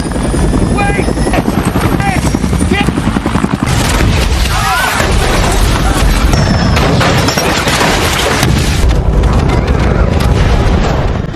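A helicopter explodes in an alien-invasion film: loud, close rotor noise runs throughout with booming crashes and blasts, and voices speak over it.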